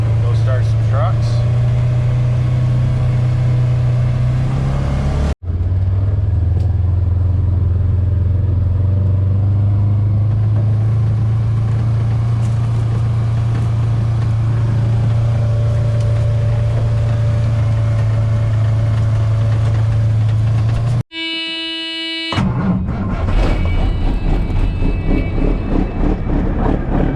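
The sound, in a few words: truck engines started and idling to warm up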